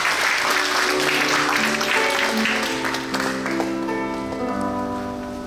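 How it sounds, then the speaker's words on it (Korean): A congregation claps at a Korean church installation service for a denomination's new general assembly president, the applause steady under sustained organ or keyboard chords that linger as the clapping fades. "박수 부탁드립니다"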